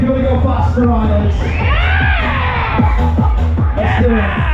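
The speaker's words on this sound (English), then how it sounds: "Scream if you want to go faster, riders." Riders on a fairground waltzer at a fireworks night scream and shout as the ride spins, a loud, dense crowd roar with rising whoops over thumping music and a voice on the ride microphone.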